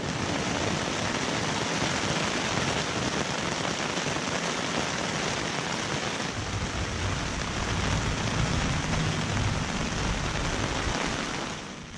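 Steady rain drums on a Mountain Warehouse two-person backpacking tent at night, a dense continuous patter close overhead with gusty wind beneath, unbroken for the whole stretch.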